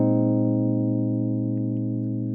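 A sustained, fully suspended keyboard chord rings steadily for a couple of seconds, slowly fading with no other sounds.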